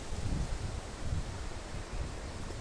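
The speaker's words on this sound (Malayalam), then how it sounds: "നല്ല തണുത്ത കാറ്റും" Soft, steady cool wind blows across the microphone in an Italian forest, a quiet rushing hiss with gentle swells and no talking.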